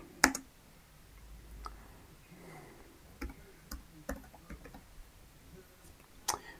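Computer keyboard typing while entering a search for a TradingView indicator: sparse, quiet key clicks at an uneven pace, with a few louder taps standing out against faint background noise.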